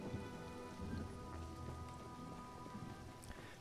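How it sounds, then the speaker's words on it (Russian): Steady light rain in the video game The Elder Scrolls Online, a soft continuous patter of drops on surfaces with a few low rumbles beneath, heard alone at moderate level. "люблю дождик. Особенно вот такой моросящий."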